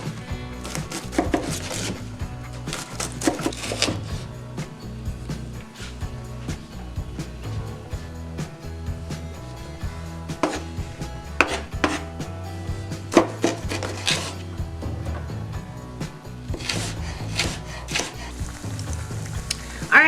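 A knife chops an old cabbage on a board, in a home kitchen while making steamed curry cabbage: steady, fast, close-up knocks that keep going with brief pauses and no one speaking.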